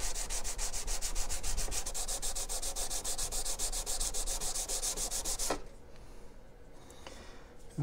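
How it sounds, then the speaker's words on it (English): A Harbor Freight hand plane is sanded by hand with 220 grit sandpaper, producing a steady rhythmic rasping stroke after stroke, close up, until it stops and leaves quiet room tone. "So I got some 220 grit. Just gonna sand it till those 150 scratches are gone on the sides."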